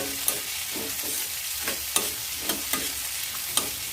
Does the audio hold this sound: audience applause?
no